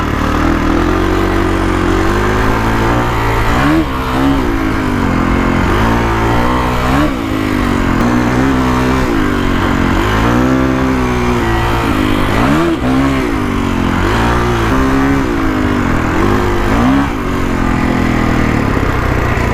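A 2021 Kawasaki KX450X dirt bike engine revs and pulls hard under acceleration, its loud buzzing drone rising and dropping through repeated throttle surges and gear changes, close and continuous with no talking.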